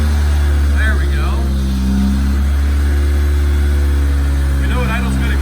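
A car engine idling steadily on a cold start, a loud continuous low rumble that fills the whole stretch, with people speaking faintly over it.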